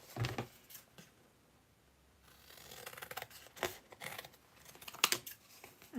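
Cardstock is cut with scissors in a quiet room: a few short, faint snips and rustles of paper, with brief pauses between cuts.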